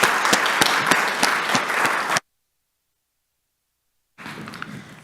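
An audience applauds at a morning summit event, a dense burst of many hands clapping that cuts off abruptly, falls silent for about two seconds, then resumes more softly.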